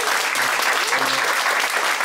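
A church audience at a teachers' curriculum session breaks into dense, sustained applause, many hands clapping together at an even level, with a faint voice underneath.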